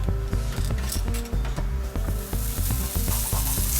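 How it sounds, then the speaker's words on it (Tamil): Butter or ghee sizzles on a hot dosa griddle over medium heat, a loud, continuous close-up frying hiss with rhythmic scraping and stirring taps throughout. "இப்போ இதில் வெண்ணெய் அல்லது நெய் எது உங்களுக்கு விருப்பமோ அதை சேர்த்துக்கலாம்."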